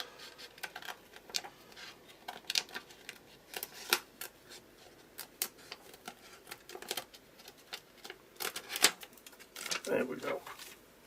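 Scissors snip a circle out of sticker paper during a craft session, a quiet run of small crisp cuts and rustling paper close by, with a few brief louder clicks and no talking.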